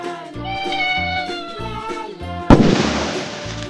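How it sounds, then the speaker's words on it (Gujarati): A cat meows over a bouncy musical backing, then a loud burst of noise cuts in. "બિલાડી"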